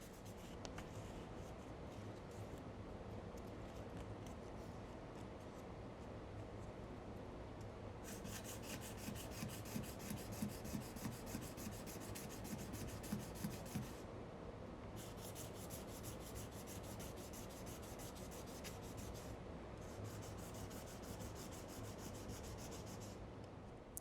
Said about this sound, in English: sanding at a slightly different direction can help show when you have completely removed the deeper scratches